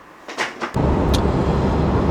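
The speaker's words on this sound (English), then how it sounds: "in the car on the highway down to this event" Interior rumble of a car cruising on a highway, steady broadband road and engine noise starting abruptly after a couple of brief soft sounds.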